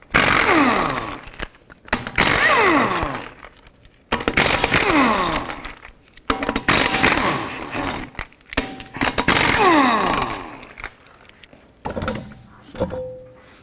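An impact tool spins lug nuts off a 2005-2010 Pontiac G6 front wheel with a 19mm socket, loud whirring bursts repeated about five times with short pauses between them, each rising and falling sharply.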